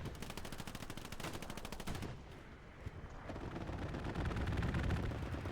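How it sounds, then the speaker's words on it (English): An aircraft strafing run in Hell Let Loose unleashes a long, dense rattle of rapid automatic gunfire, loud and steady, then gives way to rumbling impacts and heavy low booms. "Strafe coming in from Woman Repellent."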